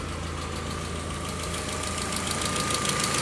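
Volkswagen Sharan with a 1.8 turbo AWC engine idling with a faulty hydraulic lifter, a steady engine hum carrying a rapid, even ticking knock, close up and alone.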